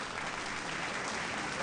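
A crowd applauds a world champion woman cyclist standing on the victory rostrum, a continuous even patter of clapping heard from a distance at a moderate level.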